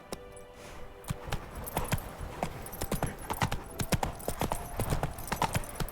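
Hooves of Roach, a horse in The Witcher 3, clatter in an irregular, fairly close sequence of sharp thuds and knocks, starting slow and then picking up over a few seconds, with faint ambient tones underneath.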